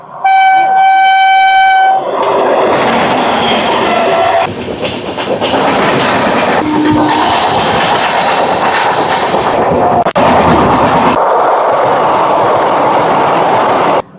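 A loud train horn blasts at the start, then the Bhagyanagar Express rumbles past close by with heavy wheel clatter and roar, a second horn note partway through, all filling the whole stretch.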